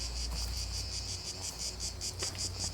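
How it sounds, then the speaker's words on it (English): Dense, loud cicada buzzing pulses steadily and rhythmically, a shrill continuous drone with no talking. "They're cicadas."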